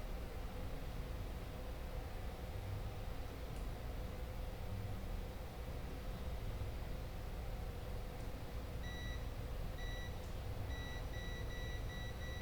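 A multimeter on continuity setting sounds short, faint, high beeps in a quick irregular series over a quiet hum while probing components on a short-circuited circuit board.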